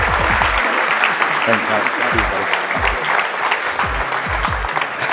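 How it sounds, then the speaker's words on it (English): Conference crowd applause at a real estate super conference, continuous clapping with a voice speaking briefly over it near the microphone. "massive round of applause for these two."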